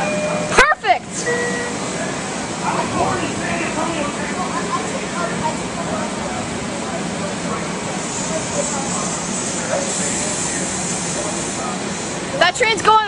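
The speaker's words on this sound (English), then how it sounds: "This M7A is leaving." Metro-North M7A electric commuter train departing Tarrytown station on the Hudson Line, a steady hiss and rumble of motors and wheels with brief squeals and clatters at the start and end.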